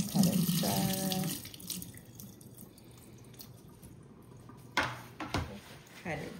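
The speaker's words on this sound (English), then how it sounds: "We're just gonna give it a little rinse and pat it dry." Tap water runs into a kitchen sink as a soft fish fillet is rinsed, a steady faint splash with brief louder gushes near the end, while a voice talks over it at the start.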